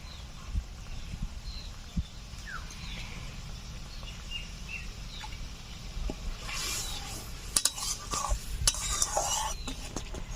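Ground garam masala is stirred into a reduced egg curry (dim kosha) with a spoon scraping the pan: quiet at first, then sustained close scraping with sharp metallic clinks and a soft sizzle underneath.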